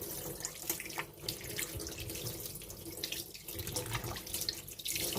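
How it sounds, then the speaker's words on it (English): Running water from a kitchen tap splashes steadily while hands are washed beneath it, close and continuous with small shifts as the hands move through the stream, and no talking. "You wash your hands very well before you start preparing your child's"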